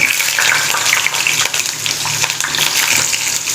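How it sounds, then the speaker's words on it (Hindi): Roughly chopped onion frying in a pan with cloves and black peppercorns: a loud, close, watery crackle that keeps going with small bursts of spatter throughout. "और इसमें मैं 1 बड़ी रफली चॉप्ड प्याज ऐड कर रही हूँ।"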